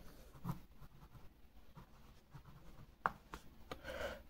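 A pen scratches across paper as someone works out a class 8 maths problem by hand. It is faint and close, with short irregular strokes and small taps and pauses between them.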